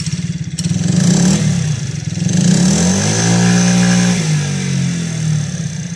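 Boston four-stroke Euro4 scooter engine starting up and running close by, a buzzy idle rising into a brief rev and easing back down, steady and fairly loud.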